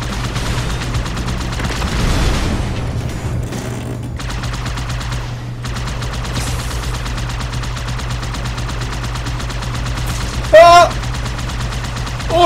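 Automatic gunfire from the video game Halo 2 rattles on steadily beneath a constant low hum, with a brief sharper burst near the end, while a player reacts in French.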